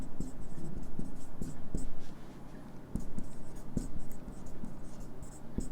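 Writing a line by hand, a scratchy pen-on-paper sound with small taps and strokes heard close, under a low background hum, with no clear speech.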